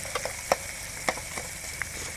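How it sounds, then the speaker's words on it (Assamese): Food frying in a pan in a home kitchen, a steady close sizzle broken by a few sharp clinks and scrapes from stirring, with no one talking. "এতিয়া এইফালে আমি এইখিনি ধুনীয়াকৈ ভাজি লওঁ"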